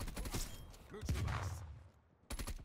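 The KSP 45 fires in Call of Duty Cold War, with rapid bursts of gunshots in short clusters that break off into quieter gaps, close and loud.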